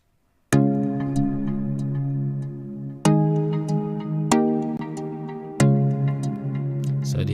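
A layered chord progression in FL Studio for an afroswing beat, bright synth chords with a delay effect, four sustained stabs repeating with echoing tails, full and unaccompanied.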